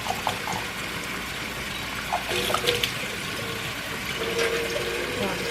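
Dried beans sloshing in a container of water as they are shaken to rinse them while cooking chili, an uneven liquid swirling and splashing with a voice faintly in the background.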